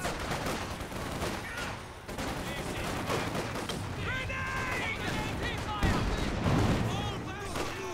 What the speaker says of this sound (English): AT gun tries to get a killing blow on the flak half track.